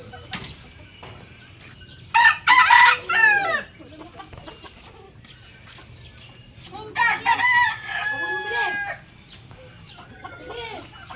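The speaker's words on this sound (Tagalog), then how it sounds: "Daming manok." Roosters crowing in two loud bursts a few seconds apart, with chickens clucking and a low steady hum in between.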